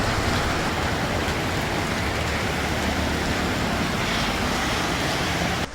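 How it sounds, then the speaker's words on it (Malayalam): Heavy rain hisses and roars without a break, a thick wall of noise from start to finish. "മഴ ഹെവി ആവുകയാണ്."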